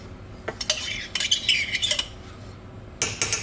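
A metal spoon scrapes and clinks against a bowl in short irregular strokes, pulling meatloaf ingredients from the sides, close and fairly quiet with brief pauses between scrapes and no talk.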